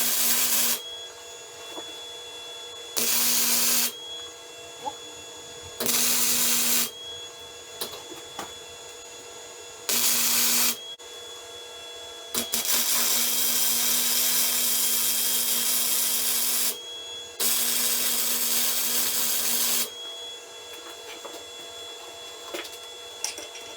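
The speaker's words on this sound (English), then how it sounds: "I'm gonna weld out these nuts here to this plate so that they're on there solid" MIG welding nuts onto a steel plate for a Jeep JK rear bumper build: several crackling, hissing bursts a few seconds each, separated by short quiet pauses, close and fairly loud.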